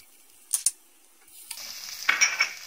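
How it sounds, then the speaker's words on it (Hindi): Chopped garlic and ginger hit about two tablespoons of hot oil in a pan for fried rice. A couple of sharp clinks come first, then a steady, close hissing sizzle builds and continues with light scraping. "अब इसमें लहसुन अदरक डाल देंगे,"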